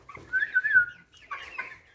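A Light Brahma rooster gives a few short throaty clucks and a drawn-out call, close by, with a brief pause before another burst of clucking.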